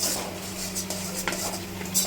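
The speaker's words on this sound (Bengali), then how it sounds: "আলুগুলো দিয়ে খুব ভালো করে এইভাবে কষিয়ে নিন" Potatoes being stirred and sautéed in a pan for a home-style paneer dish, with a utensil scraping and clinking against the metal in steady strokes over a faint sizzle, close and fairly quiet, no talking.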